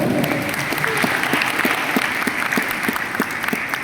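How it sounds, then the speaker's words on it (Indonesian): Sustained, lively applause from students at a general lecture held at STAI Siliwangi Bandung, many hands clapping together with individual sharp claps standing out throughout. "Tepuk tangan untuk ibu dan bapak dosen"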